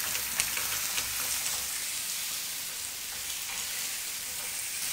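Eggplant frying in a pan for a Turkish güveç makes a steady, close sizzle with crackling spatters throughout and no speech.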